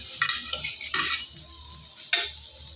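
Metal spoon scraping and stirring fish curry in a pot, a few quick clattering strokes in a row, a pause, then one more sharp scrape, close and clear with no talk.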